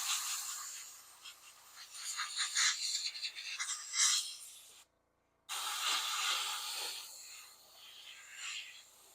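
Spray primer hissing from a can onto miniatures, in several close bursts of varying length with a brief silent gap in the middle, no talking.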